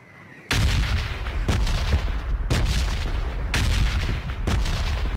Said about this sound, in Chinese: 迅速让杰西进屋躲避，因为对方召唤了轰炸机